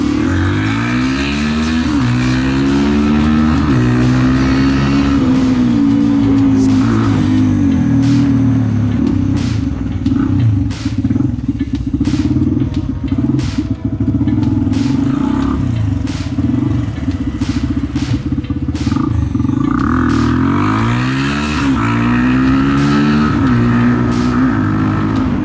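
A Honda XL 250R Paris Dakar motorcycle engine runs loud and close, idling with a rough rumble and rising in several revving swells throughout, with no talk.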